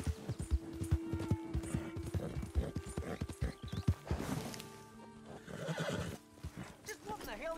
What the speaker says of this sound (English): Ain't you a good horse?